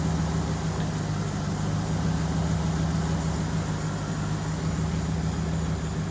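An engine swapped into a Chevy Prizm runs at a steady idle, a constant low rumble with an even hum heard close by and without a break.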